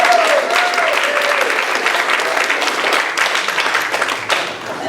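A big crowd claps steadily in a dense, loud wash of applause welcoming a guest speaker to the stage, holding strong for several seconds with faint voices and cheers mixed in.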